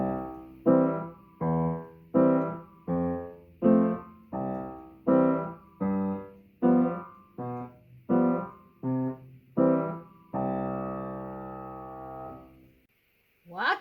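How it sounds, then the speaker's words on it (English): Piano plays a stride bass pattern, alternating low bass notes with higher chords in a steady, bouncing rhythm, ending on a held chord. "a lower bass note, and then a higher chord is played in succession"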